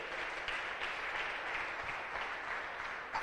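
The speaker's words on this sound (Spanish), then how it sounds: "Dale una ofrenda de palmas a nuestro gran Dios." Steady applause from a congregation clapping together in a church service, a dense, even patter of many hands that lasts throughout with no talk over it.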